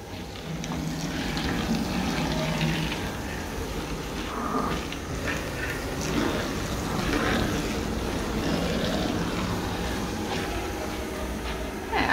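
Water from a hose sprays onto a PVC window on a motorhome, a steady rushing hiss with splattering that carries on throughout the stretch.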